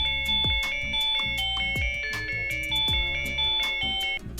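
Electronic chime melody from an FK88 smart watch ringtone, played through the watch's small built-in speaker: a bright, repeating run of tonal notes with steady rhythm, fairly loud and close, with no voices.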